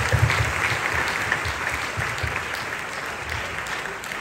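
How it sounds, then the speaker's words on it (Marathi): An audience at a civic felicitation ceremony for Paris 2024 Olympic medallists and participants claps loudly for a medal winner, a dense, steady burst of applause lasting several seconds. "एक जोरदार टाळ्या स्वप्नीलसाठी."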